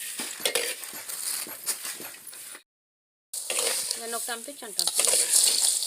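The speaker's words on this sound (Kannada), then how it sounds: "ಈ ಥರ ಎಲ್ಲ ಮಿಕ್ಸ್ ಮಾಡ್ಕೊತಾ ಇದ್ದೀವಿ ನೋಡಿ ಕಾಳುಗಳೆಲ್ಲ ಹುರ್ಕೊಂಡಿದ್ದೀವಿ" Dry lentils being stirred and roasted in a pan for sambar powder, giving a steady scraping and light rattling with soft sizzle. A brief silent gap falls in the middle, and louder clinking and scraping follows.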